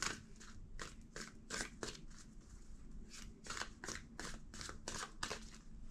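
Tarot cards being shuffled up close, a run of quick crisp riffles and snaps in uneven bursts, fairly quiet with no talking.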